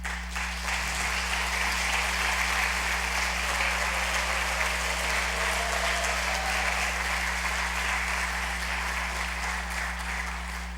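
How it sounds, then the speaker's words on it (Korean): Sustained applause from a church congregation during a Sunday worship service, steady broadband clapping filling the whole stretch with a constant low hum beneath and faint voices mixed in. "큰 박수로 이렇게 격려해 주시기 바랍니다"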